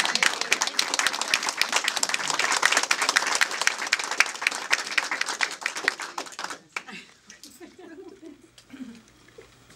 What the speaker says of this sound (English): And everybody, let's have a cheer.